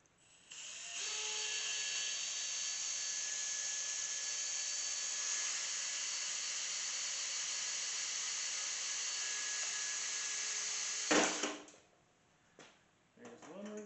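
A drill bores out the rivets holding the hard drive bay of an old PC case, a long, loud, high-pitched whine that holds steady for about ten seconds, then winds down in short bursts near the end.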